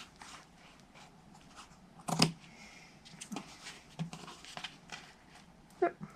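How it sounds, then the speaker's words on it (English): Scissors snip fabric in a few short, crisp cuts spaced irregularly, close by, with light handling noise between them. "I'm using fabric scissors. I'm just gonna trim."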